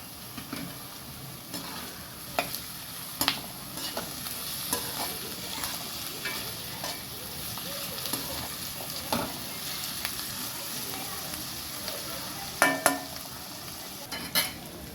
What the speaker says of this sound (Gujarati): હવે આપણે નાખી દઈશું શિમલા મરચાં